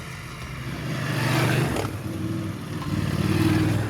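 BMW F750 GS and F850 GS adventure motorcycles riding off-road on mountain trails, engines revving and swelling up and down with gear changes, close and fairly loud.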